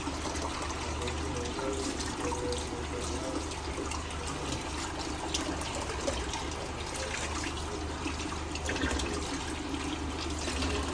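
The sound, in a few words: water running from a tap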